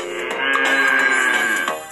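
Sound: cows mooing in NxtApp 4 Kids iPad game

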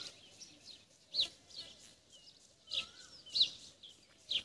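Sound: birds chirping, including koel, near farm fields

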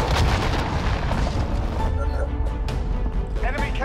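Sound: cruise missile explosion in Call of Duty: Modern Warfare video game

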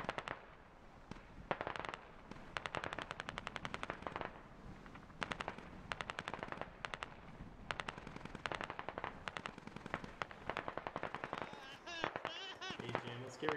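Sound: gunfire from Russian forces in a video game

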